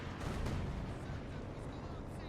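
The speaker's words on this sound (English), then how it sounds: "British forces under consistent artillery barrage" Artillery barrage in Company of Heroes 2 on the Hill 400 map, a rolling series of muffled blasts and rumbling impacts with a commentator talking over them.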